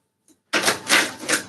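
Tarot cards shuffled by hand in close, crisp bursts of riffling and clattering, three swelling waves after a tiny tap and a brief pause.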